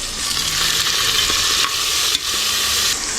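Onions fried golden brown with bay leaf and whole spices in a pan for vegetable pulao, with tomatoes going in: a loud, steady close-up sizzle that holds unbroken, apart from one brief dip, under constant stirring.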